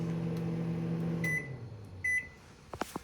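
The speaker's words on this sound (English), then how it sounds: "you have residential style microwave" A residential style microwave oven in a 2023 Riverstone Legacy 39RBFL fifth wheel hums steadily, winds down, and then gives a few short beeps, close and clear.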